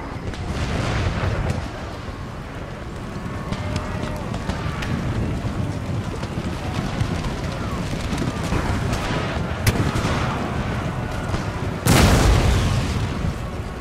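Cannon artillery fire in a battle of the strategy game Empire: Total War, a dense, continuous rumble of booms with a sharp loud blast near the end, under someone speaking.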